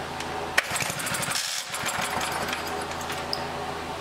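A 1960 hand-crank lawn mower engine, just revived after sitting for 40 years with a rebuilt carburetor, runs nearby with a rough, rapid putter and uneven sputters throughout.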